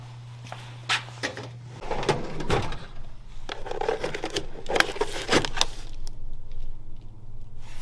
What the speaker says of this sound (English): when I opened the drawer up, I had a surprise